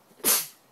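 A single sharp sneeze bursts out close by, a short breathy explosion that fades quickly, heard during tomato trellising in a garden.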